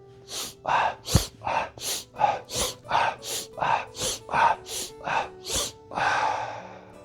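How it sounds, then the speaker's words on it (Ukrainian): Strelnikova breathing exercise: about a dozen sharp, forceful breaths in a quick, even rhythm, loud and close, ending in a longer, softer exhale. "Вільний вдих, видих."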